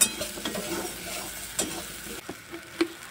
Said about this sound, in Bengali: পটলের মতো সয়াবিনগুলোকেও ভেজে নেব।